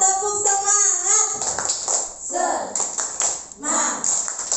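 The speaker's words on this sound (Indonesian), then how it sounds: "Oke, kita tepuk semangat lagi ya." A group performs a rhythmic clapping cheer in a classroom-style session, with short bursts of claps mixed with voices and chanting throughout, fairly close and loud.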